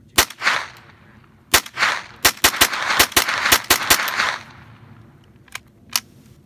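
Rifle gunshots ring out outdoors on Pine Valley Mountain, sharp cracks in an irregular string, some spaced apart and others in quick succession, with a couple of fainter, more distant shots near the end.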